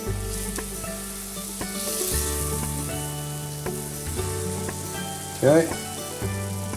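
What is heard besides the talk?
meat sizzling in a hot pan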